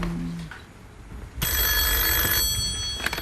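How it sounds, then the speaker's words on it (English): A telephone bell rings on a game-show set, a loud sustained electronic trill that starts partway through and holds for about a second before ending, following a quieter stretch of studio room tone. "And now the phone is going to ring."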